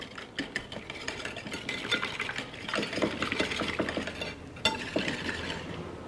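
Eggs being mixed with salt and other ingredients in a bowl for a home-style dish: steady, close scraping and clicking strokes repeat in a brisk, uneven rhythm, with no talk.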